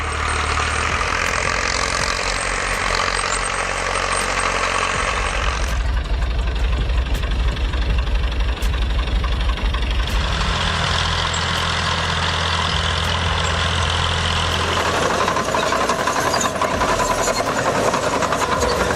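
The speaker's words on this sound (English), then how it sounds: "The Fiat 455C is an agricultural crawler tractor manufactured by Fiat between 1970 and 1982" A Fiat 455C agricultural crawler tractor's 2.6-liter diesel engine runs at a steady idle, a continuous low throbbing rumble with mechanical clatter whose tone shifts slightly partway through.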